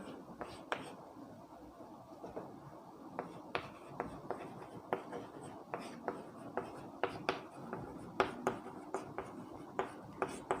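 Marker or chalk writing on a board during a physics lecture on electrostatics, heard as a steady run of short scratchy strokes and taps, moderately quiet, over room tone with faint murmuring.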